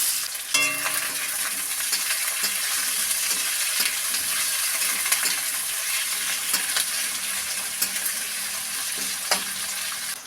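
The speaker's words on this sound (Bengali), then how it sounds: "তেলে দিয়ে দেবো পেঁয়াজ। পেঁয়াজ লাল লাল করে ভেজে নেব।" Onions sizzling and frying in extra mustard oil in a kadai wok, a steady dense hiss throughout with occasional stirring clicks, close and alone without voices.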